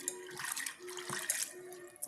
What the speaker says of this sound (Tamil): இப்போ 2வது தண்ணி ஊற்றி களைஞ்சிக்கலாம்.